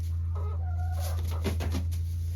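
A Marans rooster gives a few short clucks up close over a constant low hum, with no voices.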